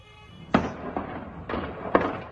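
Four sharp gunshots crack at irregular intervals across the town of Sderot, Israel, each trailing off in a short echo, fairly distant against a quiet background.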